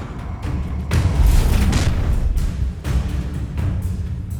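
An Incendio fire spell is cast in Hogwarts Legacy, producing a loud whooshing, roaring burst of flame with several booming surges over a few seconds.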